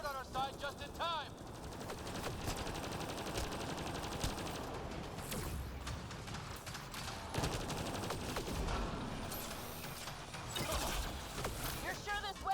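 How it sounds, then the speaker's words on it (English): Turret and gunfire in the video game Mass Effect Andromeda, a dense, steady rattle of automatic shots and combat noise running throughout, with character voices and music mixed in. "Looks like we got that turret on our side just in time."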